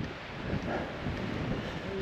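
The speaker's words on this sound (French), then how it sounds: "On est vraiment en plein vent" Strong wind buffets the microphone on an open hilltop trail on the Montcarrière loop near Villasavary, a steady low rumbling roar with gusty swells throughout the short stretch, no voices.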